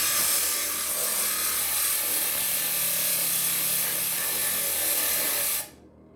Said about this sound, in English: I put this through the grinder. Pretty noisy.